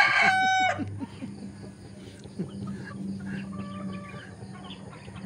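A gamecock rooster in a small poultry yard lets out one loud, close crow at the start, then softer clucking and fowl chatter continue with faint background birds.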